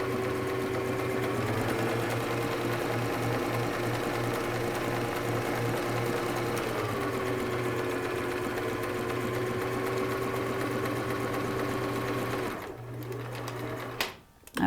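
Sewing machine running steadily and close while stitching a zigzag hem on turban fabric, a continuous whirring hum with rhythmic stitch pulses that briefly slows and stops near the end.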